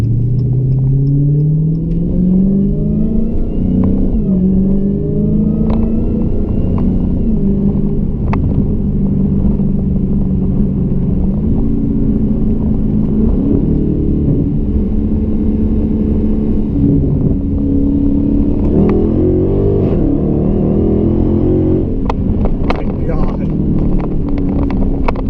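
A 2017 Dodge Hellcat accelerates hard on a rolling pull, its engine a loud, deep, rising roar heard from inside the car, with a brief shift dip early on and the note climbing steadily throughout.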